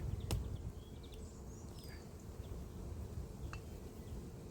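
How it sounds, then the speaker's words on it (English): A steady low hum of many honeybees inside an open hive in spring fills the clip, continuous and close, with a few faint clicks and brief higher chirps over the drone. "there's plenty of bees in here to keep this warm now"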